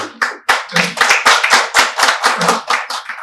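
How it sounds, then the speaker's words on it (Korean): Hands clap in a conference hall during a local council debate on resident self-governance, a close, loud run of quick claps with slightly uneven spacing, heard on their own. "왜 이분만 박수를 치세요?"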